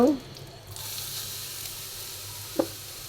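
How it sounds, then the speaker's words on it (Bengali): Chopped carrot goes into a frying pan where raisins and nuts were just fried, and a moderate steady sizzle rises, with a brief knock of a utensil against the pan near the end. "আমরা যে গাজরটা কুচি করে রেখেছি গাজরটা দিয়ে দিব"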